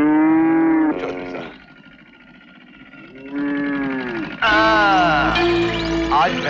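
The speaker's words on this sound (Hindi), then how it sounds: "ए चल भैंसों को हटा यहां से" Buffaloes mooing close by, loud drawn-out lowing calls, several in succession with a short quiet gap, the last one deeper and louder than the others.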